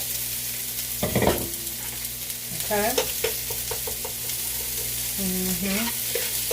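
Onions and peppers sizzling in hot oil in a pan, a steady frying hiss under a brief spoken word, with clinks and scrapes of stirring.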